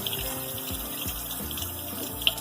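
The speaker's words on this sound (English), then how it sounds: "let's wash our hands using soap and warm water for 20 seconds." Hands washed under a running kitchen tap with soap and warm water, a steady, close splashing rush of water that continues without a break and with no talking.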